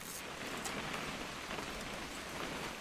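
Steady rain in the video game What Remains of Edith Finch pours down in a dense, even hiss, with a constant patter and no pauses throughout.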